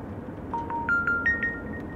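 A mobile phone rings indoors with a faint, rising sequence of electronic beeps in short repeating tones, alone without talk.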